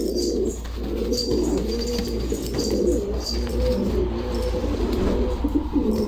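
Pigeons, a male and a female of a fancy flying breed, coo continuously in low, rolling calls over a constant hum, with faint higher chirps scattered above.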